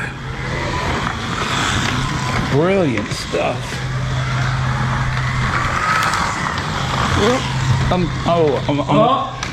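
Slot cars racing around a track at a slot car show, a steady high whirring motor hum running throughout beneath lively talk and exclamations from people nearby.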